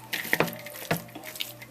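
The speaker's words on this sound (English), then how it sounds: "Now I'm going to very quickly rinse my hands off before I open up all the bottles." Water running from a kitchen tap as hands are rinsed, with soft splashing and a few small clinks over a steady faint flow, close by and brief.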